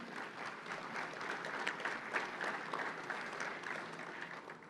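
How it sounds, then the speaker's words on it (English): An audience at a chamber of commerce luncheon applauding, steady dense clapping that holds evenly for several seconds with no talking over it. "Let's give them a big round of applause."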